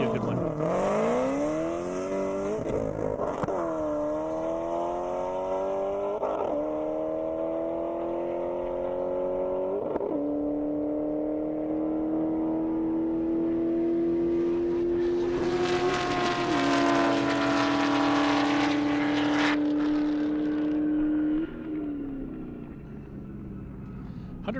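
At an airstrip, a Camaro ZL1 and a Mercedes E63S race hard, their engines climbing through rising revs with sharp gear-shift breaks. The roar builds loud and close and then fades, with people talking beneath it.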